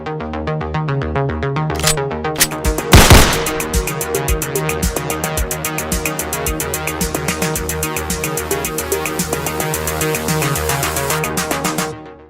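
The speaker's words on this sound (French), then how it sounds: "Jingle!" A dense, loud channel intro jingle plays alone for about twelve seconds, with a sharp noisy hit near the start followed by a steady rhythmic musical pulse that cuts off at the end.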